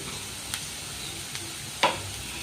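Spice powders (turmeric, coriander, chilli, fennel, garam masala) stirred into frying onions for prawn roast: steady soft sizzle under a few sharp scrapes of a spoon against the pan, close and alone.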